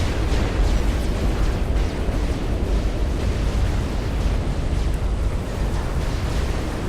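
Naval supporting fire from a Tempest warship in Supreme Commander, a dense, continuous roar of overlapping explosions and heavy gunfire rumbling loudly throughout with no pauses.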